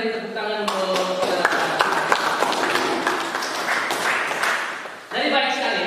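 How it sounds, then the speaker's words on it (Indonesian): An audience in a university teaching exam session applauds with a steady patter of clapping, while a speaker's voice is heard at the start and again at the end. "Mari kita beri tepuk tangan untuk"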